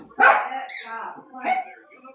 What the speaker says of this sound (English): It's hard to talk over a barking dog.